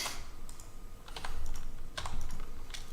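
Typing on a computer keyboard, close and fairly quiet, with irregular bursts of clicking keystrokes.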